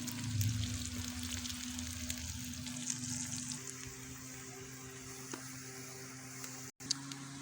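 Onions browning in a pan over a village-style desi oven, giving a steady, fairly quiet sizzle and crackle that softens partway through, with no talking.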